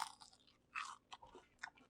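Crunchy air-fried popcorn chicken, a copycat of KFC's, dipped in spicy honey mustard and chewed close up, giving several sharp, crisp crunching bursts with short pauses between bites and no talking.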